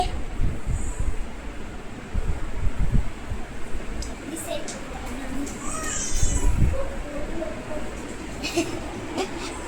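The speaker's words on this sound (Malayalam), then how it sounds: "കാറ്റ് ശരിക്കും" Strong outdoor wind buffets the microphone in continuous gusty rumbles with louder surges, and a voice talks intermittently beneath it.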